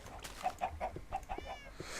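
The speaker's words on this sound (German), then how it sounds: "Anders viele Hühner da drin." Chickens in the Minecraft video game cluck in a quick series of short, fairly faint calls, several in a row, with no talk over them.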